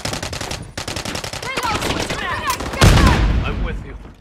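Rapid gunfire in Modern Warfare III multiplayer: dense bursts of automatic shots crackle throughout, swelling into a heavier, louder barrage near the end, with brief radio-style voices mixed in.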